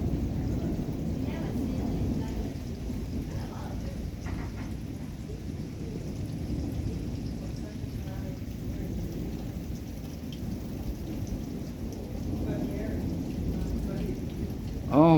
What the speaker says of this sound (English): Man, what a storm.